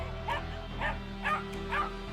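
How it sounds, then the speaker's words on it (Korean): A dog gives four evenly spaced, short yipping barks over a steady low background hum, moderately close, with no talking. "개 짖는 소리가 났어요"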